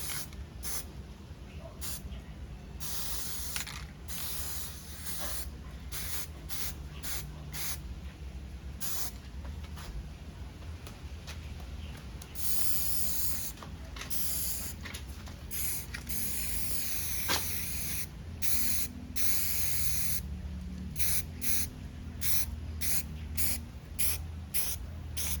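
An aerosol spray paint can lays thin coats onto a Transformers Seeker toy in repeated short hissing bursts, with brief quiet gaps between passes, close and fairly quiet.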